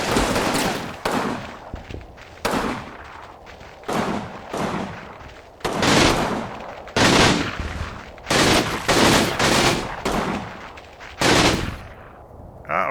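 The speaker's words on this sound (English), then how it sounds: "we're returning fire" Intense World War II gunfire from Combat Mission: Final Blitzkrieg, with bursts of machine-gun fire and single shots cracking and overlapping in dense, loud volleys, broken by brief lulls and heavy thumps.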